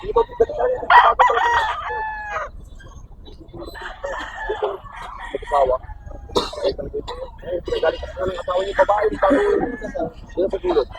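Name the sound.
rooster crowing at a market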